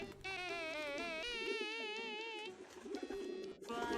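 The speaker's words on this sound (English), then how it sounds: "you entrust it to one of your trained carrier pigeons, the lone gunbirds" A carrier pigeon in the video game Hiveswap coos in a warbling, tonal call against a steady background drone, clear and fairly close, repeating over a few seconds.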